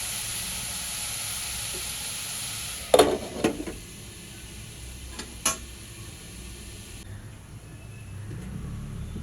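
Cowpea pods (chavli shenga bhaji) cook in a pan with a soft, steady sizzle, broken by a couple of brief clatters and knocks.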